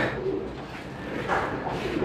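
Small fancy pigeons from a large collection of Iranian breeds coo softly and repeatedly, a low, continuous murmur of several birds close by with no talk over it.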